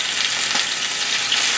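Steak with bell peppers stir-fries in hot oil in a pan, making a loud, close, continuous hiss of sizzling with no talk.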